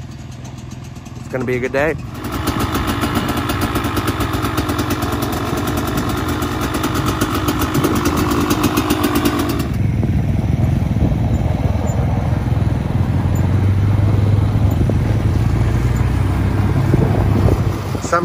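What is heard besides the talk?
motorcycles warming up and idling on ice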